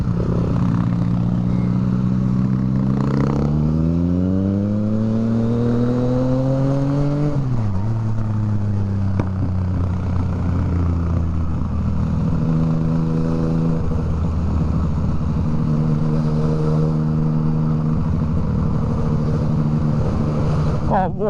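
A Porsche's engine rises in pitch as it accelerates past at a bike night, its tone sweeping up and then dropping away as it passes, with other engines idling steadily in the background.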